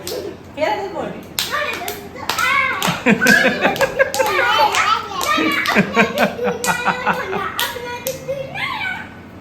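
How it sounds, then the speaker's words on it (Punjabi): A small child claps hands repeatedly at home, with sharp, irregular claps scattered among the child's chatter and happy sounds while an adult speaks nearby. "ਮਜ਼ਾ ਆਉਂਦਾ ਇਹ ਤਾੜੀ ਵੇ"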